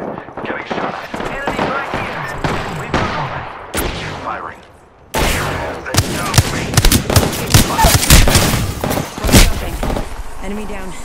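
Gunfire in a video game: dense volleys of rapid shots and bursts crackling near and loud, with brief lulls between, over in-game voice callouts.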